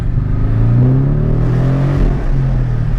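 A Porsche 718 Cayman GTS engine with a Fabspeed Supercup turbo-back exhaust rumbles and revs up with a deep, throaty exhaust tone, holding steady and loud for a few seconds before easing back.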